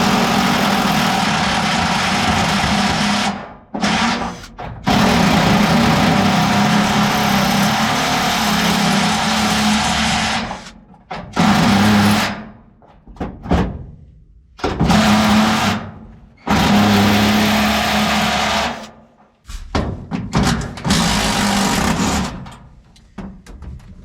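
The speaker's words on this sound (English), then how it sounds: "Now that we got the old electric hammer." A loud, continuous electric hammer whir with a mechanical drone runs in long bursts, cutting out briefly several times before starting again, while working on a 1967 GMC 910 gas tank.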